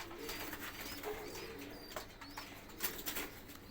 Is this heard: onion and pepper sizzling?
no